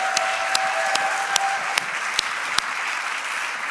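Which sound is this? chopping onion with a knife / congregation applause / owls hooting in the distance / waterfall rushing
congregation applause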